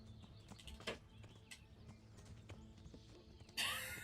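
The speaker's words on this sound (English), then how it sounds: "Henry, get the fuck on the horse" A horse in the video game Kingdom Come: Deliverance gives faint clip-clop hoofbeats over low background ambience, then a sudden louder burst of noise near the end.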